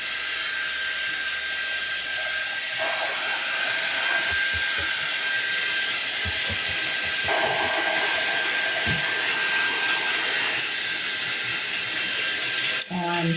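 A hair dryer blows on wet red paint on a Santa bust craft piece, a steady airy whoosh running the whole time with a voice now and then beneath it.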